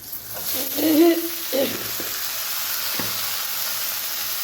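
Sliced bitter gourd dropped into a hot pan with oil, turmeric and salt, giving a steady close sizzle and hiss, with brief clatter and stirring noises near the start and again shortly after.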